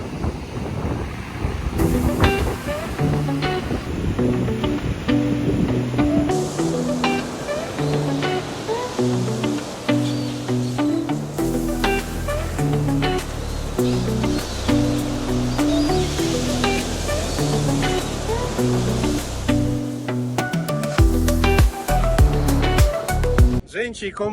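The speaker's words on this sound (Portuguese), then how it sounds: "As ondas estão bem fortes, gente, bem forte." Strong ocean waves break on a small beach in Santa Catarina, Brazil, a rolling, rushing surf that swells and crashes repeatedly under almost constant talking nearby.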